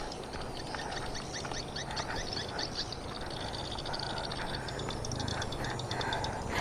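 Swiftlets calling at a nesting building, dense rapid chirps and clicks layered over constant hissing background noise, moderately faint and continuous throughout.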